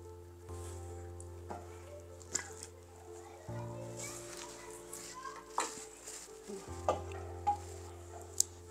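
Beef sizzles and fries in a kadhai for aloo gosht, with a spoon stirring and scraping against the pan in repeated strokes over a low steady hum, close and fairly loud.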